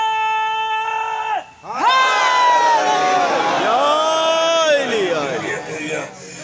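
At a Chehlum majlis for Imam Hussain in Islamabad, a crowd shouts a religious slogan together in a loud, ringing chant, voices rising and falling in unison after a single sustained call.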